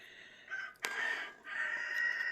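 A rooster crows nearby, a loud, drawn-out strained call broken by a short gap and then carried on to the end, with no one talking.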